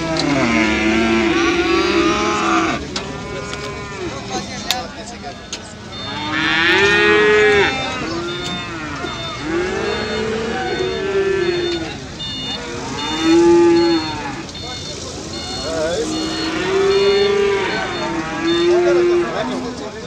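Calves and cattle at a livestock market in Beylagan moo repeatedly, several drawn-out lowing calls spaced a few seconds apart over a busy background hum, with some nearby and loud.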